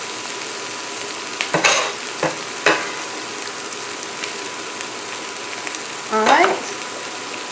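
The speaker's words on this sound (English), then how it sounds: "Now I'm going to go ahead now and add my onions." Onions frying in a pan with peppers for chicken Philly cheesesteak sliders, a continuous bright sizzle broken by a few sharp stirring clatters, one near the start and a louder scrape later, with a brief word spoken.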